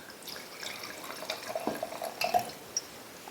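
Wine is poured from a bottle into a glass, a soft, close trickle with small glassy clinks and drips in a quiet room.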